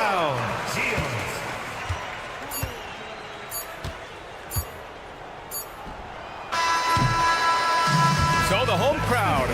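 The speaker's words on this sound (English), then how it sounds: "So the home crowd happy here as they get the victory" Home crowd in a Euroleague basketball video game, sporadic ball bounces and thin murmuring giving way to a sustained loud roar of cheering in the final few seconds.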